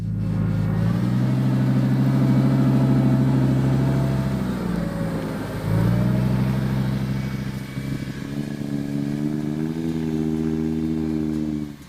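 A Lamborghini engine pulls away in first gear with a loud, close, rising rumble that eases off, swells again, and climbs steadily before cutting off at the end.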